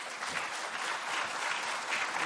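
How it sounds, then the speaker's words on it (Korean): Audience applause welcoming a Dongguk University law professor to the podium at a Korean policy forum on the National Assembly intelligence committee, a dense steady clapping from a full room lasting throughout. "박수로 환영하겠습니다."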